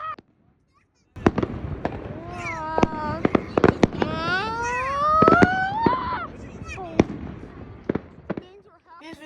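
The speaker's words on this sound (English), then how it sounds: "This is a video regarding July 4th fireworks." July 4th fireworks in a residential neighborhood burst as a string of sharp, loud cracks and bangs, with rising whistling shells and some crackle, heard alone at fairly close range.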